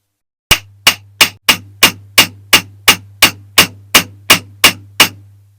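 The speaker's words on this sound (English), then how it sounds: "You don't want to see loads of hammering going on" A hammer taps a wheel off a Dinky Plymouth Plaza diecast model car during restoration, about fifteen sharp metallic strikes in a steady, even rhythm, close and crisp over a low constant hum.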